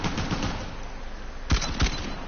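Gunfire in the video game Uncharted: The Lost Legacy, a steady rattling stream of shots with two louder, sharper bursts near the end, heard alone with no talking.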